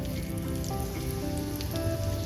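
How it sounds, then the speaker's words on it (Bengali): Dried red chilli and nigella seeds dropped into hot oil in a pan, giving a dense, continuous crackle and sizzle like rain, close and steady with no talk. "এবার ওই তেলের উপরেই দিয়ে দেবো ফাটিয়ে একটা শুকনো লঙ্কা, আর দিয়ে দেবো এখানে হাফ চামচ কালো জিরে।"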